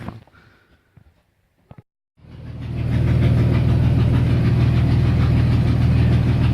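A Ford Falcon engine, after a fuel pump and fuel hose fix, starts after a couple of seconds of quiet clunks and then settles into a steady, close idle with the pump's hum faint underneath.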